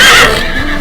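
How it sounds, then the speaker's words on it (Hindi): A horse neighs loudly and close, a single bright whinny that trails off within a second, with no talk over it. "फिर आ जाता है हमारा हॉर्स, जिसको हम घोड़ा भी बोलते हैं।"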